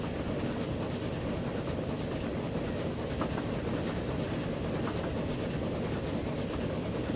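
Early 19th-century trains in the transport game Transport Fever 2, a continuous low rumbling roll with faint rhythmic clatter, steady and moderately quiet throughout.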